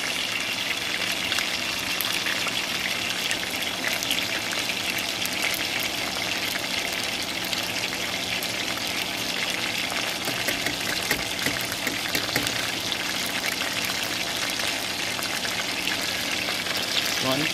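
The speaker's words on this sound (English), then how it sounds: "Konting prito pa." Food frying in a small amount of olive oil in a pan, a steady, dense crackling sizzle that runs unbroken and fairly even throughout, close by and moderately quiet, with no talking over it.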